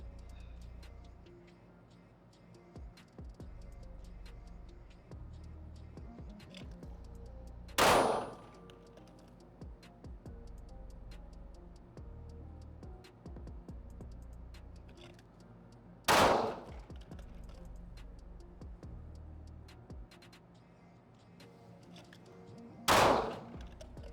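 Three single gunshots ring out several seconds apart during combat shooting training, each a sharp loud crack with a brief tail over a quiet background.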